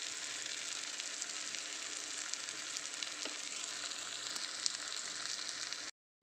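Chopped tomatoes sautéing in a pan for an eggplant curry, an even, moderately quiet hiss of frying throughout with no voices, ending abruptly.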